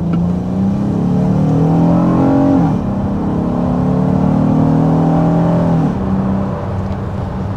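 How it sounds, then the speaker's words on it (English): A 2024 Honda Odyssey minivan engine pulls hard and loud up a steep incline, revs climbing steadily through gear shifts with a strong, close whining drone throughout. "we are, accelerating up a pretty steep incline, and as you can see, we really have plenty of power"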